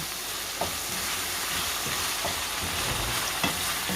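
Chicken curry being stirred in a pan gives a dense steady sizzle, with a spoon scraping the pan in occasional soft strokes, close and with no voices.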